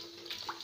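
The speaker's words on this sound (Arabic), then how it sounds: "بغسلها تحت الحنفيه اهو" Tap water running over a freshly slaughtered chicken being washed under a kitchen faucet, a faint short splash and trickle with no voices.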